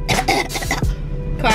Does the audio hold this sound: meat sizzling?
no